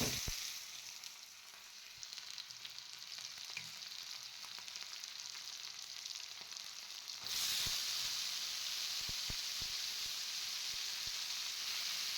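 Semolina (suji) roasting in a pan for upma gives a continuous dry sizzle and hiss that grows louder partway through, with a few faint stirring scrapes and no talking.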